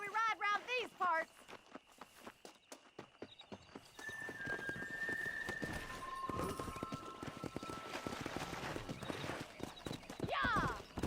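Horse hooves clip-clop in the Red Dead Redemption video game, with a whinny and ringing tones over rhythmic steps, while voices talk early on and a second neigh closes it.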